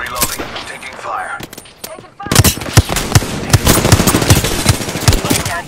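Gunfire in the video game Apex Legends: scattered shots give way to loud, rapid bursts of automatic fire cracking close by, mixed with game effects and brief callout voices.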